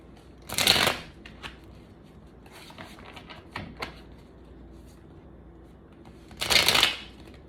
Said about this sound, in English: I gotta learn how to shuffle better.